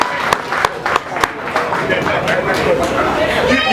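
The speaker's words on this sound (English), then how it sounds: "let's get Zach Martin a big round of applause" Crowd clapping for Dallas Cowboys football player Zach Martin at a fan event, a few loud separate claps opening into a fuller, steady round of applause with chatter and voices mixed in.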